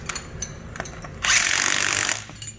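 Power tool tightening a nut on a bolt while an Alcan spring anti-wrap bar is installed: a couple of short taps, then a loud, steady whirring burst of about a second that cuts off, with a few clicks after.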